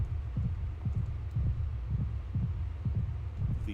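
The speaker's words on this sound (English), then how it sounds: "this is supposed to be the rapid heartbeat" Rapid heartbeat sound effect from a video game: a steady series of low double thumps, about eight beats in under four seconds, loud and close over a dull hum.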